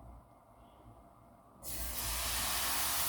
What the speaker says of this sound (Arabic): تسخن الطاسه ونبدا بقى نسوي في الخبز بتاعنا. هنزل بمغرفه واحده كده